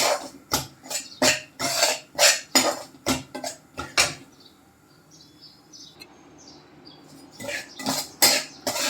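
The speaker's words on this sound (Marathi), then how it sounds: "आता आधी मी सुका रवा भाजून घेतो" Dry semolina (rava) roasted in a pan and stirred with a metal spoon produces rhythmic loud scraping strokes, a pause with faint chirping in the background, then the scraping resumes.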